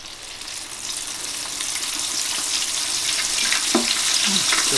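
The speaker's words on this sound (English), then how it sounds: "I'm gonna only fry these for about 4 minutes because everything's cooked" Beef, bean and cheese taquitos deep-fry in hot oil, giving a steady close sizzle and crackle that builds slightly over a few seconds, with no voices.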